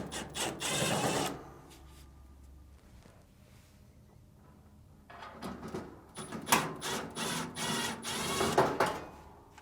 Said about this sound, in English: Now, remove these two Phillips screws.